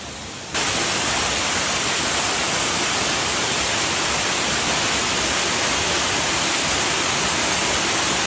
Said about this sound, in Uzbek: Chiroyli sharshara ekan.